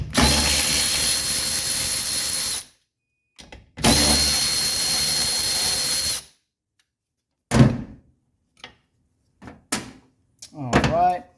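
Screws coming out of the linkage on the valve cover of a 1984 Mercedes 300D, with two long, loud bursts of a power driver followed by scattered clicks, clanks and brief handling noises close up.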